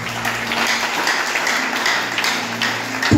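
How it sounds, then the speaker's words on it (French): A church congregation applauds together, a steady wash of clapping that holds at an even level throughout and swells slightly at the very end. "On applaudit le Seigneur."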